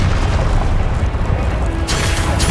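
Game combat from Hogwarts Legacy: a loud, continuous rumbling boom of the Confringo explosion spell fills the moment, dense and close, with a brighter burst near the end and no talking.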